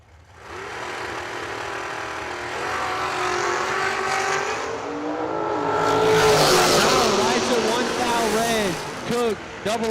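A race car engine at speed on a track at the 18th Annual Ultimate 64 event, loud and continuous, rising in pitch as it nears and roars past, with a second engine joining toward the end.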